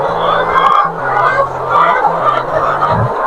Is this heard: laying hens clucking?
yes